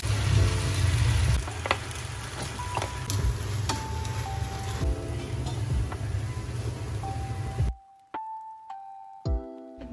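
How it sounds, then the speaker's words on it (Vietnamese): Macaroni stir-frying in a pan gives a steady, fairly loud sizzle with occasional scraping clatter, then cuts off abruptly near the end, leaving a few faint clinks and tones. "Bữa nay thì mình sẽ làm món nui xào nha."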